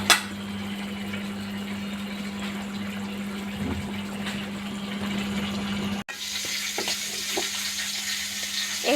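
Fried rohu fish pieces go into a pan of simmering turmeric and salt water, producing a steady, close bubbling sizzle over a low electrical hum. The sound briefly cuts out, then resumes brighter.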